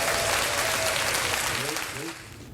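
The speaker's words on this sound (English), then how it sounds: "right after this applause" A crowd applauds steadily, a dense, loud wash of clapping that fades slightly toward the end.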